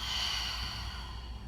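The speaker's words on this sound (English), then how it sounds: "Taking a deep inhale and exhale." A deep, slow breath drawn in and let out during a calm relaxation exercise, one steady airy rush lasting the whole moment, close and soft, with no talking.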